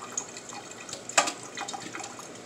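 Liquid from a can of salmon drains into a kitchen sink with soft trickling and spattering and a few sharper drips. One splash stands out near the middle.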